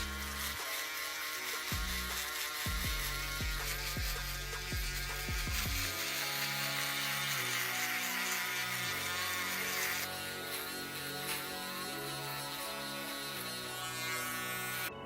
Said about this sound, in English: So I'm gonna take my shaver and I'm just gonna go over that and clean it up.